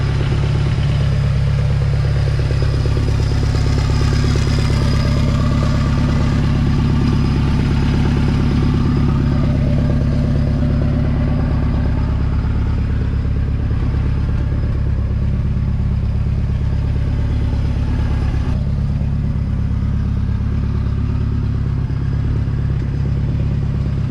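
A turbocharged Ecotech 2.2 liter engine in a sand rail, pushing about 400 horsepower, runs close and loud with a steady rough, clattering idle and slight rises in revs throughout.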